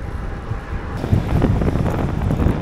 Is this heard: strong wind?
yes